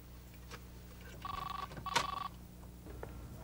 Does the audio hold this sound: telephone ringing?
yes